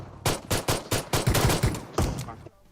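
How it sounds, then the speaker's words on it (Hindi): Rapid bursts of gunfire from a shotgun in the mobile battle royale game PUBG Mobile, about ten loud close blasts in quick succession over a low rumble, then a short quiet tail. "और यहाँ पर कोई शॉटगन भी चला रहा है।"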